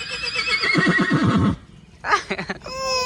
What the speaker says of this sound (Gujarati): કોની ઘોડી છે ઘોડી